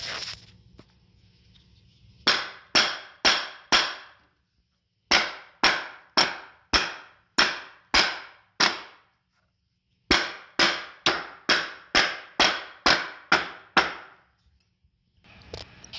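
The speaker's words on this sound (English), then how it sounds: "now we're going to proceed to banging it with a rubber hammer" A rubber mallet strikes an electric unicycle to reset a bearing during repair of a ticking fault, about twenty sharp close knocks in three quick bursts with short pauses between.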